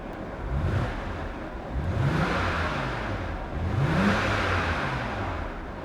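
A BMW Z4 E85 convertible with an inline-six petrol engine revs up three times in quick succession, each blip rising in pitch and then falling back toward idle. The car is close by and no one speaks.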